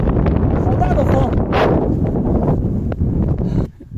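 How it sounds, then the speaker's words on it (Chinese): Strong wind roars across an exposed sand mountain beside Qinghai Lake during a storm with rain, a loud, steady buffeting on the microphone with a sharp gust midway that drops off sharply at the very end. "刮起了大风，好大的风"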